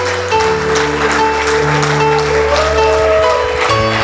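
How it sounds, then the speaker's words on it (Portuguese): Congregation at a 2019 men's church congress applauding in praise, a dense, sustained wash of clapping that fills the hall with steady loudness, mixed with music and a sung tone underneath. "Aplauda o Messias."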